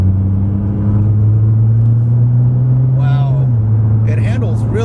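A Nissan GT-R in R mode accelerates up a twisty road, its engine a loud, close, steady drone that rises in pitch then shifts as it changes gear, with a voice speaking briefly over the cabin rumble.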